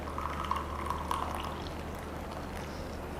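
Hot water pours from a kettle over two instant coffee sachets in a cup, a steady close trickle and splash lasting a few seconds that softens toward the end, with no voices.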